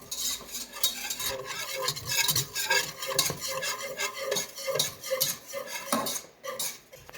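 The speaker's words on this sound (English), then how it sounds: "So we're going to keep stirring it for 2 minutes." Continuous scraping and clinking of a utensil against a pan as flour cooks into a roux, a busy, close rasping stir with a faint sizzle underneath and no talk.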